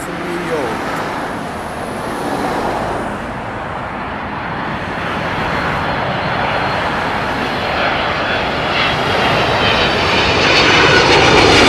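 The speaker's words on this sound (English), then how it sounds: "United Airlines, Flight 767, arriving from New York." United Airlines flight 767 jet arriving from New York, a loud sustained engine roar and rushing whine that builds slowly and stays close throughout, with a voice speaking over it.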